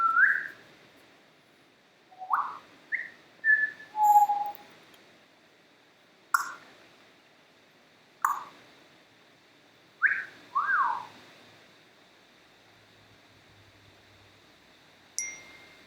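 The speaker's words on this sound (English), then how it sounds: "The bird says hello." A pet bird whistles indoors in short, separate chirps and rising or falling whistled notes, spread out with pauses of a second or two. The calls are moderately close and heard alone over a faint room hum.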